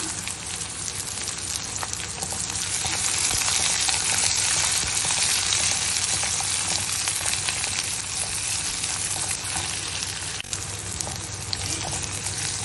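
Sliced onions and crushed garlic frying in a pan for a bottle gourd masala, a dense, steady hiss of sizzling oil with occasional faint stirring clinks, loud and continuous without talk.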